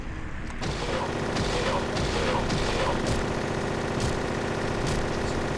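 A submachine gun fires continuously in the video game Silent Hill 3, loud, rapid and unbroken, with mechanical clatter and game effects layered in.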